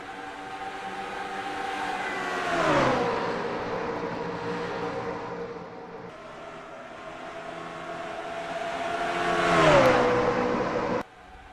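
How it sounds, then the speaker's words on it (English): Race trucks in a racing video game roar down the straight at Pocono, engine tones rising and falling in pitch as the pack passes, loud and continuous with a sudden cutoff at the end. "Nathan Stapleton and Wyatt Walker will lead the field down to get race number 3 underway here at Pocono."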